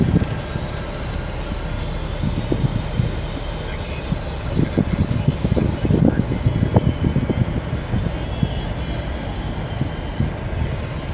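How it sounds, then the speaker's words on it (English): A 2015 Nissan Quest minivan on a test drive gives a steady, loud rumble of engine and road noise from inside the cabin, continuous throughout with no talking. "I'm going to buckle up and we're going to go on a test drive and see what she's got in her."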